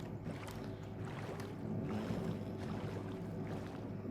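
Boat gliding across water in Minecraft, a steady low rumble of wake and splashing with wind-like noise, continuous and fairly faint throughout.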